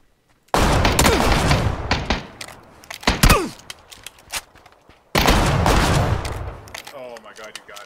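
Video game gunfire in a squad battle royale match, with two long loud bursts of rapid automatic shots separated by scattered single cracks and thuds, close and punchy.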